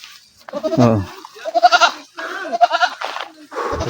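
Goats bleat on a farm where they are being rounded up and herded, several quavering bleats close by in irregular bursts, with a little human speech mixed in.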